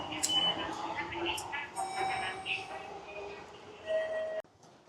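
A train at a Tokyo station gives a steady rumble with tonal hums and brief chimes, and people talk nearby before the sound cuts off abruptly at the end.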